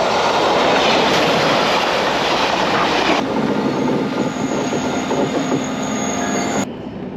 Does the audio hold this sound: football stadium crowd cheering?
no